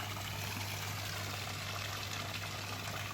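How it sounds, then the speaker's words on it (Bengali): Water pumped by a 40-horsepower motor pump gushes out in a steady, faint rushing flow over a low constant hum, with no voices. "এই যে পানি উঠতেছে এখন"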